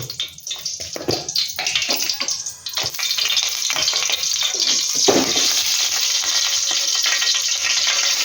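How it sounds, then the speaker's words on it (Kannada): Mustard seeds sizzle and pop in hot oil for a tempering, a dense close crackle with sharp bursts in the first seconds that settles into a steady loud frying hiss, with no talking. "ಇದಕ್ಕೆ ಎಣ್ಣೆ ಹಾಕಿದೆ ಸಾಸಿವೆ ಹಾಕ್ಕೊಂಡೆ ನೋಡಿ ಒಗ್ಗರಣೆ ಬಿಡು"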